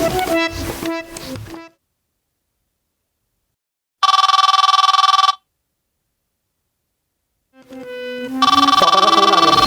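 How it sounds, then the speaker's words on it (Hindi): A telephone rings with an incoming call from dad during a Hindi street play: a loud electronic ringtone sounds in repeated bursts separated by silent gaps. "पापा का फोन आ गया।"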